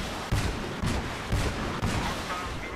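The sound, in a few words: artillery firing in a video game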